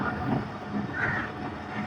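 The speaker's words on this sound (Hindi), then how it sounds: "अब बाउद्दीन ज़िक्रिया एक्सप्रेस भी अप्रोच कर रही है घोटकी रेलवे स्टेशन" The Bahauddin Zakariya Express approaching Ghotki railway station, a steady rumble and hiss of rolling rail cars, fairly loud and close, with no voices.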